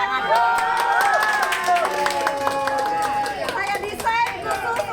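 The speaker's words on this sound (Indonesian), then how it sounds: "Tepuk tangan dulu" Audience at an Indonesian advocates' association anniversary and orientation event clapping and cheering, with crowd noise and loud voices and tonal sounds layered over the clapping throughout.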